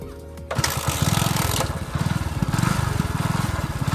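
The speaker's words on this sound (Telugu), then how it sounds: "మనకైతే బండి అయితే స్టార్ట్ అయింది ఫ్రెండ్స్" A Super XL 100 cc motorcycle engine kicks over and catches, then runs with a loud, rapid, steady putter close by.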